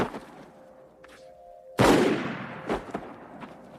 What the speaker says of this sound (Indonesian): tiba-tiba dua tentara Jerman tertembak oleh Mother di kejauhan.